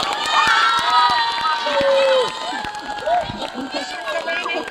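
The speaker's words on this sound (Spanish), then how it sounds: "pido un fuerte aplauso para la directora de los niños, Norma" Concert audience cheering and applauding for a children's choir director, with loud shouts and whistles over clapping that eases off after a couple of seconds.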